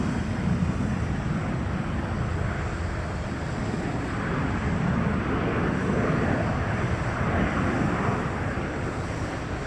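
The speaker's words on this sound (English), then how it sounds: "757 over here. You're landing right now." A Boeing 757 airliner landing at San Francisco produces a continuous, broad roar mixed with gusty wind rumble, which stays loud and even throughout with no voices.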